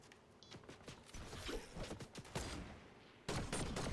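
Rapid bursts of gunfire in a video game, faint and distant-sounding, with rattling volleys spread through and a louder burst near the end.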